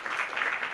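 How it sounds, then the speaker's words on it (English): Audience at a national youth conference applauding representatives, a brief steady patter of many hands at moderate distance. "A round of applause, ladies and gentlemen"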